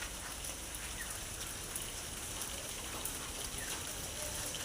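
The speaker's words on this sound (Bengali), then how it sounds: "জোর কদমে চলছে বৃষ্টি মাঝে মাঝে থামছে একটু আবার শুরু হচ্ছে মুসুল ধারায় বৃষ্টি" Heavy monsoon-season rain pours down in a dense, even hiss of drops striking surfaces, steady and moderately loud with no voices.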